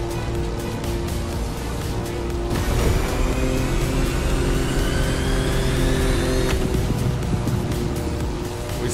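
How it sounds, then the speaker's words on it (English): A plane engine in a video game roars in a dense, continuous drone with rising whining tones as it speeds up, loud and steady throughout with no talking. "Sounded like a real plane for a second there."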